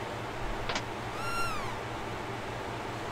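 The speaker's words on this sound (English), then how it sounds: "Yeah, it looks like Chrono's cat" A short cat meow sounds once in the Chrono Trigger video game, followed by a falling synthesized tone over a low, steady game background hum.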